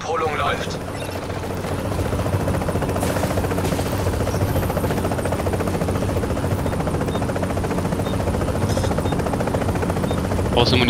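Extraction helicopter approaching in The Division's Dark Zone, a steady rotor thrum and engine drone that builds and holds throughout, with players talking over it.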